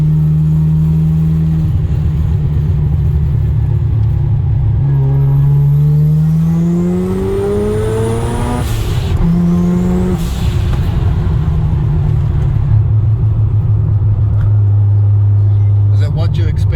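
A Mazda RX-7 with a 13B rotary engine cruises along a coastal road, the steady engine drone rising and falling through gear changes, close and loud, with people talking over it.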